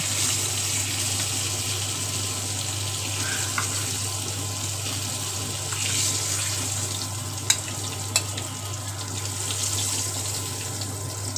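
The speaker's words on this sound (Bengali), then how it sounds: "এক পিট লাল করে ভেজে আমি মাছটা উল্টিয়ে দিচ্ছি" Pieces of bata fish fry in a pan, producing a continuous hissing sizzle with a low steady hum beneath and a couple of sharp clicks, no speech.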